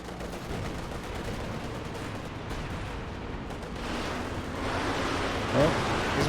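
Gunfire on a Company of Heroes 2 battlefield where tanks and machine guns are fighting: a dense, continuous clatter of shots and distant blasts over a rumbling battle din, moderately loud and growing slightly toward the end.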